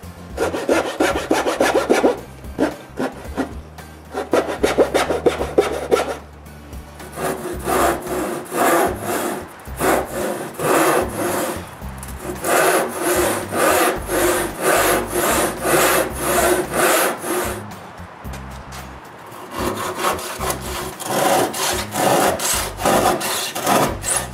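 Hand saw cutting wooden boards to length for a workshop sill, a long run of close, loud rhythmic rasping strokes with a brief pause partway and steady back-and-forth cutting resuming.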